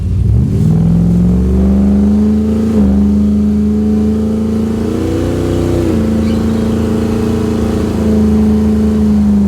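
A car engine is revved hard for a launch, climbing to a loud, close, sustained roar that wavers slightly in pitch, with no talking.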